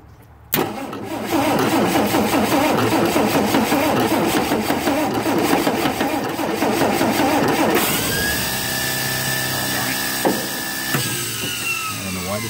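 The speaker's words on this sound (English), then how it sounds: "I don't know why the starter keeps doing that." An M715 military truck engine on a mixed 12-volt and 24-volt system, cranking loudly on the starter for several seconds and then catching and running, close up with no voices.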